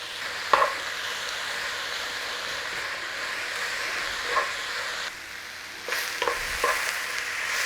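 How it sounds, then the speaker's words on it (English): Garlic and vegetables for a brisket cheesesteak fry in a pan, giving a steady, moderate sizzle and hiss, with a few brief clanks and stirring scrapes over it. "Let's have that garlic in there since we forgot it."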